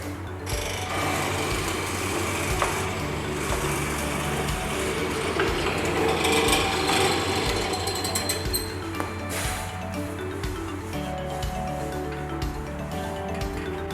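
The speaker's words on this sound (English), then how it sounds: "the Nakahashi mortising bit has some unique feature about it, and it cuts mortises cleanly" A power tool fitted with a Nakahashi mortising bit cuts a mortise for a Roubo split-top workbench, giving a steady, loud mechanical whine and rattling hum that runs continuously throughout, with dust extraction running.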